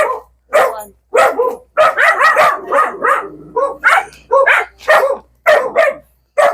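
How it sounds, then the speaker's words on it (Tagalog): Several dogs bark loudly and repeatedly nearby in quick, overlapping bursts, with a few higher yips among the barks. "Ang dami aso"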